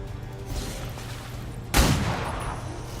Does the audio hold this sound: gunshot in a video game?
yes